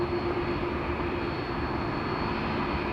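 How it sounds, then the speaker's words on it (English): Qantas airliner taking off from runway 34 left at Sydney Airport, a steady broad engine roar with a sustained low tone, heard at some distance without talk. "Qantas 11, clear for takeoff there on runway 34 left."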